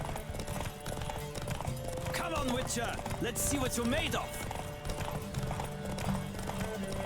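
Horse galloping in a race in The Witcher 3, steady hoofbeats clip-clopping at speed with an occasional whinny, heard beneath a voice.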